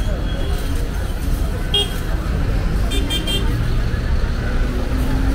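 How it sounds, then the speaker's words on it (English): Rush-hour traffic in Lima with cars and buses idling and rumbling close by. Several short horn toots break through the steady roar, and people talk over it. "a ton of cars, a ton of buses, everybody stuck in traffic, honking at each other."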